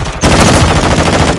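Loud, continuous automatic gunfire from a video game, a dense rapid burst that dominates the clip after a brief lead-in.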